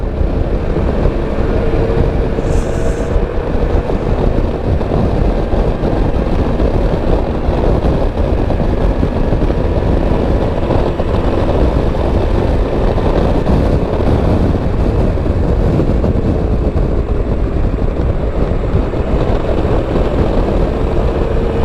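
A Triumph Trophy motorcycle is ridden on the road, its engine droning steadily beneath loud, continuous wind roar for the whole stretch, with no talking.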